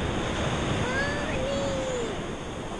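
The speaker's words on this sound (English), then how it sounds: "The waves are a lot bigger" Surf on a beach with bigger waves rolls steadily as a broad, even wash of noise with some wind buffeting, and a faint voice-like tone rises briefly in the middle.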